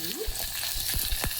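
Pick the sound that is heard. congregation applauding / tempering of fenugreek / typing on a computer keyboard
tempering of fenugreek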